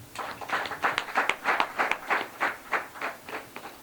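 A small group claps in a steady, even rhythm for the mayor at a land-subdivision works event in Agbanto, the claps distinct and close, moderately loud, with no voices.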